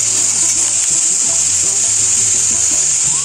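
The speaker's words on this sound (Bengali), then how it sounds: "এরপর আমি দিয়ে দিলাম আলু আর বেগুন। আলু আর বেগুনগুলো একসাথে অল্প একটু নেড়ে নেব।" Potatoes and eggplant frying in a pan while being stirred give off a steady, loud sizzling hiss that runs unbroken throughout.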